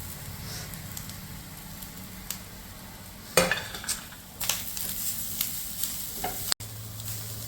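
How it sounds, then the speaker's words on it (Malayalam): Grated coconut fries in oil in a pan for jackfruit erissery, giving a steady low sizzle with occasional stirring scrapes and utensil clinks. "എണ്ണ ഒഴിച്ചതിന് ശേഷം തേങ്ങ ഇട്ട് കൊടുക്കുക തേങ്ങ ഇട്ട് നല്ല ബ്രൗൺ നിറമാകുന്നത് വരെ നമ്മൾ വറുത്ത് കൊടുക്കും"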